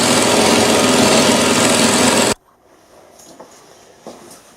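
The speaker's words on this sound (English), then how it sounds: "That's 16 3/4 of an inch I've actually managed to cut, which is not bad for a milling machine of this size." A small modified milling machine cuts metal, a loud steady whirring grind that runs for about two seconds and then stops abruptly, leaving a quiet room with a few faint knocks.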